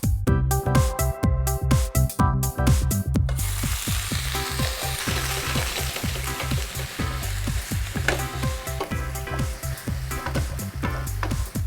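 Loud, steady sizzling and crackling of chicken and vegetables frying in oil in a hot stainless steel wok, with rhythmic metallic scraping of a spatula stirring throughout.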